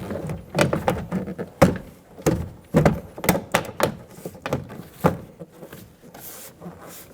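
Plastic interior door panel of a 2005-2015 Toyota Tacoma being fitted to the door, a close series of irregular thumps, taps and snapping knocks as it is pressed into place.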